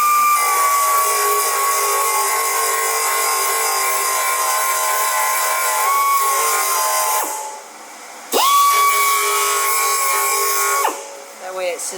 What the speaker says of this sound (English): now we're ready to drill out the final size for those holes